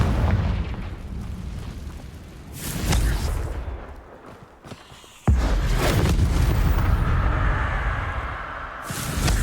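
Confringo fire-blast spell explosions in the Hogwarts Legacy video game, fought against a giant spider: two heavy booming bursts, one rolling blast early and a sudden sharp detonation midway that leaves a sustained roaring rumble, loud and close.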